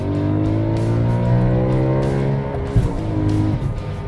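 BMW M3 with a naturally aspirated V8 revving high toward 9,000 RPM, a loud, sustained near engine roar with rising harmonics, then a brief dip and another climbing rev at the end.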